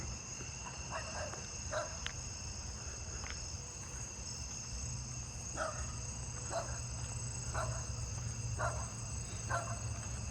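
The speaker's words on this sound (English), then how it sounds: "I'm hearing an Allard's ground cricket right there, I think." An Allard's ground cricket calls amid a steady nighttime insect chorus, its short repeated chirp bursts standing out at irregular intervals over the continuous high trilling of other crickets and katydids.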